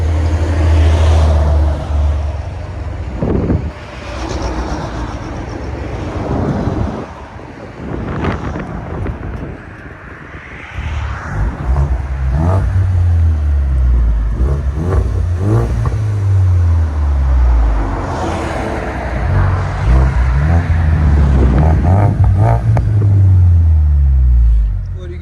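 A Ford Mustang EcoBoost fitted with a Roush axle-back exhaust with black tips revs several times in rising and falling bursts, held back by a rev limiter, with wind buffeting the microphone and voices talking nearby.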